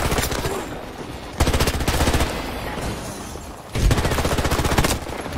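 Rapid automatic gunfire in the video game Battlefield 2042, loud close bursts of machine-gun fire separated by short gaps, with quieter distant shooting and game noise between the bursts.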